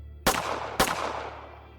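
Two sharp pistol gunshots about half a second apart, each a loud crack followed by a decaying echo that fades out.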